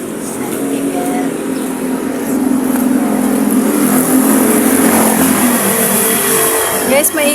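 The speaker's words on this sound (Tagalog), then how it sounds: "maingay yung mga sasakyan" Loud, constant traffic roar of cars and motorcycles, engines droning and revving close by, a busy road of passing vehicles with no pauses.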